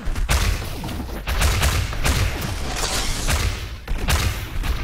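Rockets fire and explode in ShootMania during a competitive match, a series of booming thuds and blasts coming in quick succession against constant game noise.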